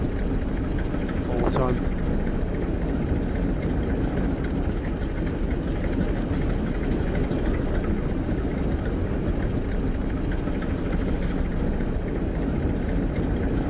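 A Piper PA28 light aircraft taxiing at an airfield, its engine giving a loud, steady droning rumble throughout while someone speaks over it.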